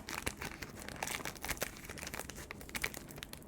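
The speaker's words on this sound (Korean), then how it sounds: "봉지를 바르게 잡고 가위로 윗부분을 잘라주세요." Scissors cut across the top of a ramen noodle bag, giving quiet crinkling and snipping plastic sounds in uneven bursts, close and faint, with no talk.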